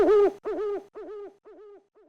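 An owl hoots in a sound effect played in a comedy show, five descending calls in a steady rhythm, loud at first and growing fainter, with no talk over them.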